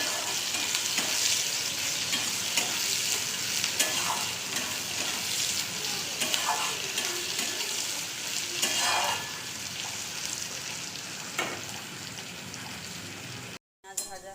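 Chopped onion with salt frying in a pan, a continuous close crackling sizzle with occasional stirring scrapes, holding steady before cutting out briefly near the end.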